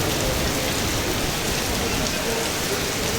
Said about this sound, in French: il se met à pleuvoir de folie